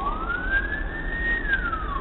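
A single emergency siren wails past, a rising and falling tone heard over a steady low traffic rumble, from ambulances and a police car circling after a bus accident.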